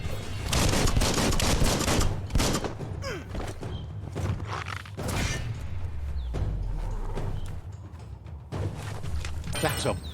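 Bomb lobber firing in the Biomutant video game, a run of heavy thumping blasts and bursts through the first half amid dense battle noise, then a deep rumbling boom, with more impacts near the end.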